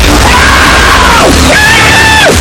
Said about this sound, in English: Better practice your winning scream.